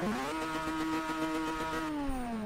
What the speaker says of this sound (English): you can hear the rotary on the turbo.